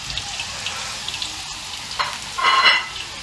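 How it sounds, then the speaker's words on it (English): Eggplant pieces fry in sunflower or peanut oil, a continuous sizzle with brief clinks and a swelling burst of crackle near the end, close and fairly loud. "And we're gonna fry this until it's slightly golden."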